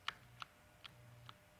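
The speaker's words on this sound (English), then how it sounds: "Yes, you can hear it clicking." An electrical switch clicks about four times at a steady pace, each click short, sharp and faint against a quiet background hum.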